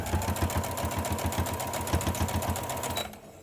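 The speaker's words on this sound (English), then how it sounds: "So now I'm just going to sew all the way along this line." Sewing machine running steadily while stitching along a seam of a fabric face mask, a fast even mechanical rhythm close by that stops abruptly near the end.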